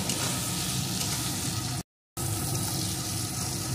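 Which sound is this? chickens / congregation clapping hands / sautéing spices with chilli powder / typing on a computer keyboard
sautéing spices with chilli powder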